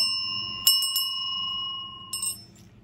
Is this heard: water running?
no